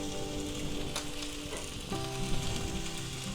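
Smoked ham slices sizzle steadily in a hot frying pan as they brown, a close, continuous crackle and hiss with no talking.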